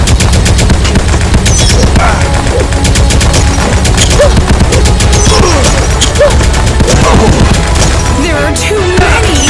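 Rapid, dense automatic gunfire from the arcade shooter Elevator Action Invasion, continuous and loud throughout with booms and game effects layered in, plus brief voice snippets.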